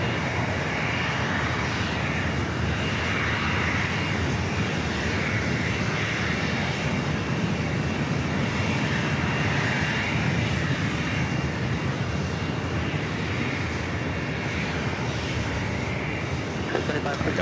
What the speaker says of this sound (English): We got more aircraft heading down here for takeoff on runway 27